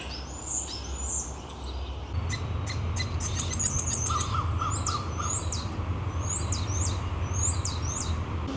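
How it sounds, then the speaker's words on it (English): Birds chirp and call repeatedly over a steady low outdoor rumble, short bright tweets scattered throughout, moderately near, in a cemetery or public gardens in Halifax, Nova Scotia. "we're hearing some birds"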